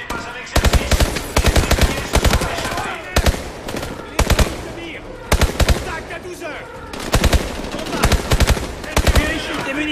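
Rapid bursts of automatic machine-gun fire in Call of Duty: Advanced Warfare during a prison shootout, loud repeated volleys in short rhythmic clusters with faint voices beneath.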